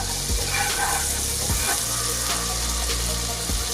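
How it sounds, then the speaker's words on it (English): Three tablespoons of butter sizzling and frying in a hot pan, a steady, dense hiss throughout, with a few soft knocks as the pan is handled. "we're going to start off by adding 3 tablespoons of butter. And just coat your pan."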